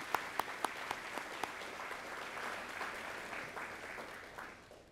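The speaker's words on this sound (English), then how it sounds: "So let's give them a round of applause as well." Applause from an audience at a student awards ceremony honoring sponsors, opening with a few sharp individual claps close by that blend into a sustained, moderately distant wash of clapping which slowly tapers off.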